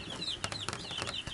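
Newly hatched, hyperactive chicks in an incubator chirp in quick, high, overlapping peeps, close and fairly loud, with soft thumps and scuffles between the calls.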